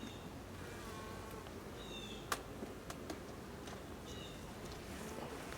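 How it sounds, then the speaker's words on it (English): Honey bees buzz faintly around an open hive during a September inspection, a low, steady drone with occasional nearer passes and a few light clicks, no talking. "Oh, there's still bees on the bottom of this."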